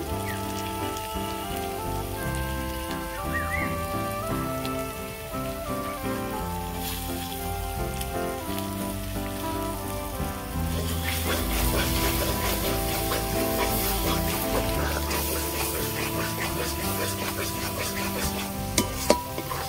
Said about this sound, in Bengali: এই গ্রেভিটা আমি এইভাবে নাড়তে থাকবো তেল ছাড়া পর্যন্ত।